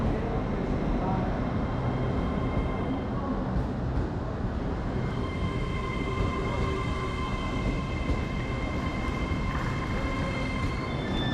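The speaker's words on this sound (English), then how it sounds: "And here's our train, the 16:45 service, which is due to arrive in Bangor at 18:19." Avanti West Coast train arriving at a station on the North Wales main line between Crewe and Bangor, a steady loud rumble with faint wheel squeal and a continuous mechanical roar throughout.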